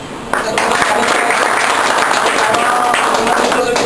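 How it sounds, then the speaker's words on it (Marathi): An audience at a business training event bursts into loud, sustained applause that starts abruptly and fills the room with dense clapping until the end. "पडवळ साहेबांसाठी जोरदार टाळ्या वाजून"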